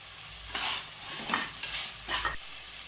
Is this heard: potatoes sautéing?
yes